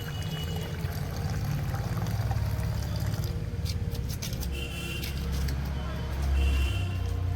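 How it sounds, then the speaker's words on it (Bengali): Water is poured into lotus plant pots in a small home garden, a steady splashing trickle running under a broad low rumble throughout, fairly close, with no talk over it. "এবার এই জলটা আমি অল্প অল্প করে সব কিছুর মধ্যে, সবার মধ্যে দিয়ে দেবো।"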